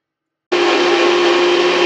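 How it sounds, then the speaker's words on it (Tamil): After a brief silence, a mixie jar grinder starts abruptly and whirs at a steady high whine, grinding onion, tomato, green chilli, garlic, ginger, coriander and curry leaves into a paste for fish curry. "இந்த வெங்காயம், தக்காளி, பச்சை மிளகா, பூண்டு, இஞ்சி, கொஞ்சம் கொத்தமல்லி, கொஞ்சம் கருவேப்பிலை, இது எல்லாத்தையும் நம்ம மிக்சி ஜாரில் நல்லா பேஸ்ட்டு போல் அரைச்சிக்கணும்"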